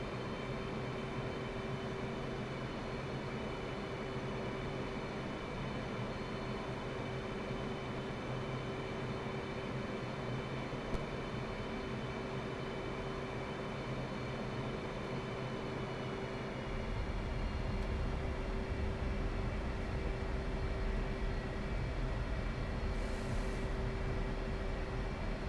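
An aircraft on short final landing at Tbilisi, runway 13, in the DCS flight simulator: a steady, droning engine hum with a faint tonal whine that deepens and grows slightly louder partway through.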